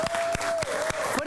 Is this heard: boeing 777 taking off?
no